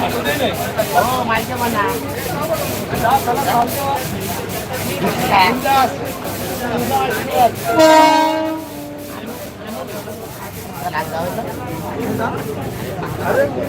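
A slow Mumbai local train passes close by with continuous loud rumbling and clatter, and a clear horn blast rings out partway through while people talk over the noise.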